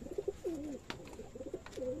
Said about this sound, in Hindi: सब कबूतर ठीक ठाक आया